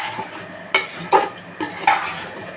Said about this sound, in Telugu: పుదీనా కొత్తిమీర వేసుకున్న తర్వాత మళ్ళీ ఒకసారి తిప్పుకొని ఒక 5 మినిట్స్ మూత పెట్టి